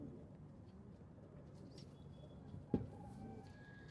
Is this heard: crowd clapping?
no